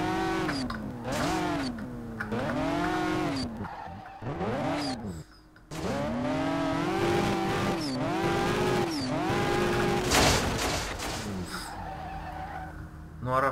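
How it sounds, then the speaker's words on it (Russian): Cars drift in the SLRR video game, including a tuned VAZ 2107, with long wavering tire squeals and revving engines that rise and fall in repeated arcs, close and loud, with brief gaps between slides. "И ребята там что-то на дороге вытворяют, типа арабского дрифта."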